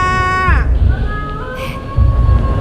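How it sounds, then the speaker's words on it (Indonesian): A loud, close cat meow slides downward in pitch, followed by a thinner drawn-out whine over a noisy background. "Suara apaan sih tuh? Kucing!"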